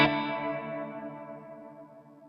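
Line 6 HX One Dynamic Hall reverb tail on electric guitar, a single struck chord fading smoothly and evenly over a few seconds with no other sound.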